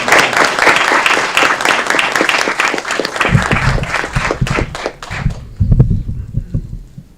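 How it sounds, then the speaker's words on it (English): A city council committee audience applauds during a meeting proclamation, loud dense clapping that thins out and tapers off after several seconds, with some low murmuring near the end. "Let's give them a round of applause."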